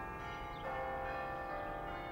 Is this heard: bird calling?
no